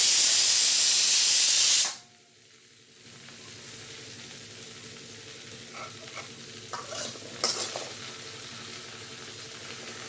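Okra (bende) pieces fry in an oiled pan, starting with a loud, hissing sizzle that cuts off sharply after about two seconds. Quieter frying and a few soft stirring scrapes follow, close by and with no talk.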